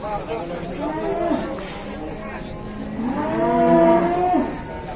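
Cattle being unloaded from a truck moo twice, with a short call followed by a longer, louder, drawn-out low moo close by, while voices chatter in the background.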